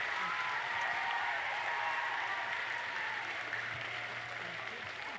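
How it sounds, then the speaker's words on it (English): An audience at a human rights workshop event breaks into steady applause, a dense, even wash of clapping at moderate distance that holds for several seconds before tapering slightly. "Give a round of applause for Carla."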